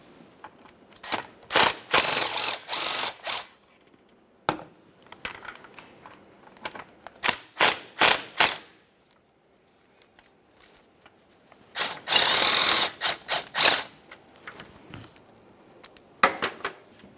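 A ratchet loosening two 10mm mounting bolts on the engine of a 2012-2015 Honda Civic 1.9L L4, rapid close clicking in several bursts separated by pauses, with occasional metallic clinks and no voices.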